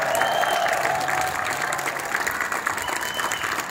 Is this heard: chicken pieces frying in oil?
no